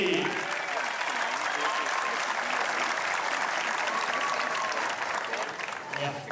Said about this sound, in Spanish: E eu peço uma salva de palmas ao tenista campeão do ATP Challenger Tour Finals 2013, o tenista Filippo Volandri.